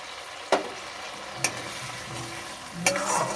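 Fish pieces sizzle and fry in a pan for a Bengali fish curry, with sharp clicks of utensil scrapes at three points and a steady frying hiss beneath, which swells near the end as water is poured in.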